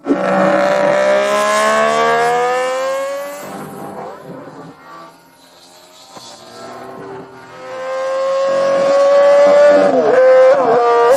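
A Honda RC166 250cc inline-six racing motorcycle engine screams at high revs, its shrill tone rising through gear changes, dropping away briefly mid-pass and then climbing loudly again close by.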